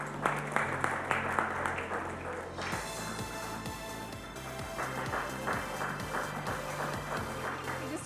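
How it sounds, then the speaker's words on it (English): Applause from an audience at a real estate summit in Mumbai, clapping at first with sharp individual claps, then blending into music with a rhythmic beat at moderate volume. "Have a larger round of applause for all of them"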